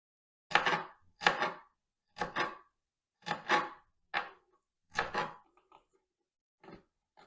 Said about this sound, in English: and then really small chop from there